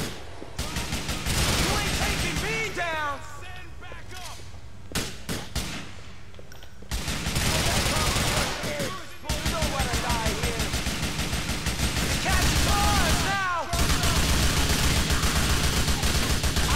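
Gunfire in Grand Theft Auto 4, dense bursts of automatic weapons fire with single shots mixed in, loud and almost nonstop amid a chaotic shootout, with voices shouting over it.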